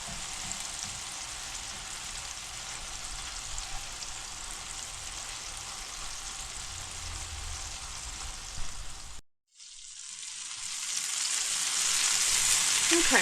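Chicken sliders sizzle in a pan with a dense, steady crackle at close range. The sound cuts out briefly, then returns louder and brighter.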